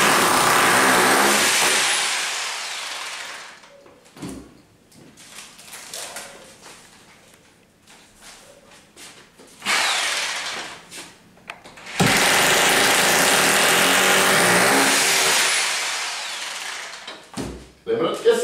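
A power drill bores a hole into a wall for a shelf niche, whirring loudly in several long bursts separated by quieter gaps where a person speaks.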